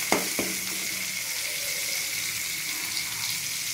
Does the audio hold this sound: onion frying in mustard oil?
yes